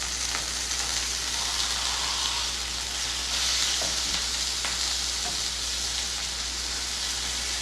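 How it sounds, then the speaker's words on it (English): A beef bulgogi burger patty fries in a hot pan with a steady, dense sizzle that stays loud and close throughout, broken by a few small pops and crackles, with no voices. "I just press on the side to make sure it kisses the hot pan"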